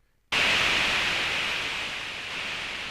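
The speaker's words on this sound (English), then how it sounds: "white noise is how we introduced it" A synthesizer's white noise switches on abruptly after a brief silence and holds as a loud, steady hiss, easing only slightly over a few seconds.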